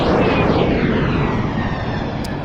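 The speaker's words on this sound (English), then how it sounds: "fire up the sponsor jet, please. Fire it up loud." Jet aircraft sound effect played loud on a livestream, a continuous roaring rumble with a hissing whine that holds steady throughout and slowly fades slightly, with no talk.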